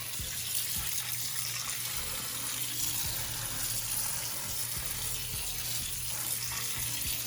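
Cold tap water runs steadily into a pan in a kitchen while ackee is prepared, a constant soft gushing stream with no voices.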